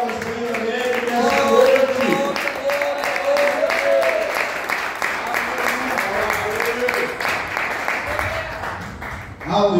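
A church congregation claps together in praise during a worship service, with steady rapid clapping running beneath a loud voice that speaks or sings throughout.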